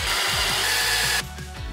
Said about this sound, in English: And now I'm just gonna pre-drill screws.